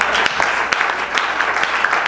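A church congregation claps together during a French-language sermon, a dense burst of steady, moderately loud applause with a few voices mixed in.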